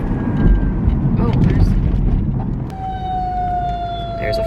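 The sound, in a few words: fire truck siren passing outside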